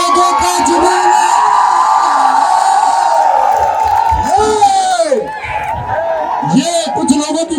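Large crowd cheering, whooping and shouting at a UP Police honour ceremony, a loud continuous roar with rising shouts and whistles throughout.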